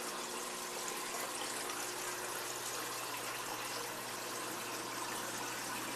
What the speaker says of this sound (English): it runs down into the sump and then into the return, going back up into the tank